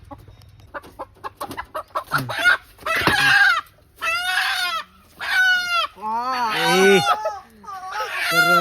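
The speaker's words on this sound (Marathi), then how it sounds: "हा बघा कोंबडा" A village rooster, being caught by hand, clucks rapidly at first, then lets out a series of loud, harsh squawks and cackles up close, with brief pauses between calls.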